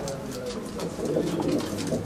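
A Jassowal breed pigeon coos steadily up close, a low soft repeated rolling call that swells slightly toward the end, with faint bird chatter in the background.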